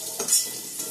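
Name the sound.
brinjal slices frying in pan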